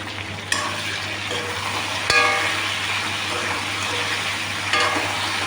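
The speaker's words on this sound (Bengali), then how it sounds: "এবার নুন দিয়ে ভালো করে ভেজে নেব" Potato and pointed gourd fry in a pan with salt, a steady close sizzle under occasional scraping stirs of a spatula against the pan.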